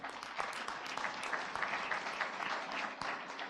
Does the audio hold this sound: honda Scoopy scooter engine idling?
no